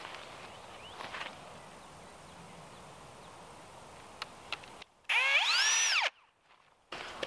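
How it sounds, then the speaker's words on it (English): A power drill drilling into wood for a trellis whirs loudly for about a second, with rising and falling motor pitch, after scattered clicks and knocks from handling. "you're gonna come from this side and drill in"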